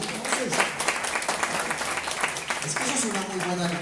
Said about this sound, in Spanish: A ver, aplaudan al Señor entonces.